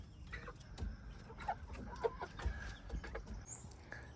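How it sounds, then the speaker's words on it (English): A backyard rooster clucks in soft, irregular short bursts among other chickens, faint and nearby, with no talking. "And you in the back is a rooster."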